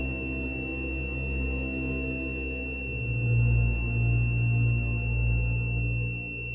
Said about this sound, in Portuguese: A perfeita rocha emitiu um alto som agudo, como se tivesse disparado um alarme.